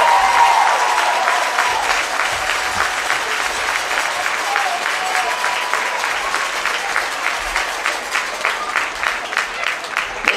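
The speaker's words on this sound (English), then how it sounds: "Let's have another round of applause for your 2026 OHSAA Division 6 State Runners-Up, the Rough Riders from West Jefferson High School" Sustained crowd applause at a high school softball state championship honors the West Jefferson Rough Riders, Division 6 state runners-up, a steady wash of many clapping hands with a few louder claps near the end.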